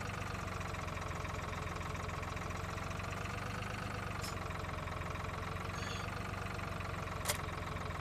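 A tractor engine idles steadily in the Farming Simulator 2013 video game, a constant low mechanical drone with a faint knocking throb, running alone with no talk.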